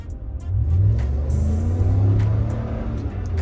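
A 2020 Ram Limited pickup truck at an auto show test drive accelerates at full throttle, its engine roaring loud and close with a deep, steady rumble that swells as it pulls away, no talking over it.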